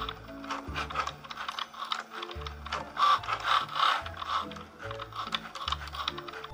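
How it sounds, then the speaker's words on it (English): Cricut Joy cutting machine cutting a design, giving quiet mechanical ratcheting and whirring as the carriage moves in short bursts, with soft clicks through the pass. "Once the machine is loaded, you'll hit OK, and then it will prepare your image and start cutting automatically"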